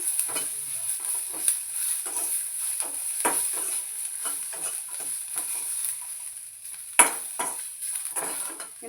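Onion and garlic fry in a pan for sprouts sambar, giving a steady close sizzle broken by scattered spoon scrapes and stirring clicks, with one sharper knock of metal.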